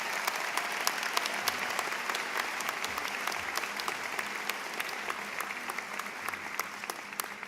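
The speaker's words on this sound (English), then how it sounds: "A big round of applause again for them." Crowd applause at a 2024 Troy High School commencement: loud, sustained clapping from a large audience, evenly dense from start to finish with scattered sharper individual claps standing out.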